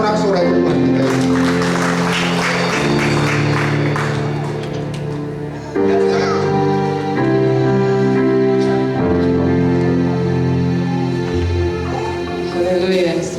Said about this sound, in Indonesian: Berikan sorak-sorai Tuhan kita ini.